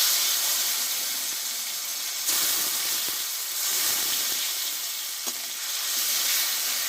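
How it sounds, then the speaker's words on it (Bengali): Crushed cauliflower stalks frying with turmeric in hot oil, a steady broadband sizzle close by with stirring scrapes and brief louder bursts as the pieces hit the pan, no talking. "এখানে আমি থেতো করা কফির ডাটাগুলো দিয়ে দেবো"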